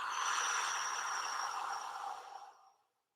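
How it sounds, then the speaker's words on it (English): A single long breath out through the mouth, breathy and close, steady for about two and a half seconds before trailing off into silence during a guided breathing exercise. "and breathing out the mouth."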